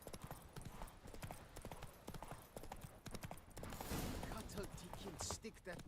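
Roach the horse's hooves in The Witcher 3 clip-clop steadily and loudly at a brisk gait, with other game sounds mixed in behind them.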